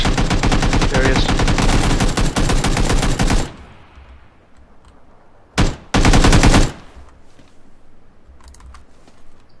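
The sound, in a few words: gunfire in a video game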